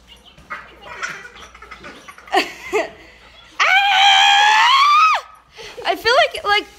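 A person lets out a loud, sustained yell lasting about a second and a half, rising out of playful chatter and laughter; other people talk before and after it indoors.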